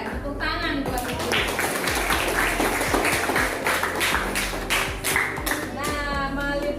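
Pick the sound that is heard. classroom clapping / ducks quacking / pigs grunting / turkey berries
classroom clapping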